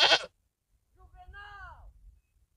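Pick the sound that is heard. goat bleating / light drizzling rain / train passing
goat bleating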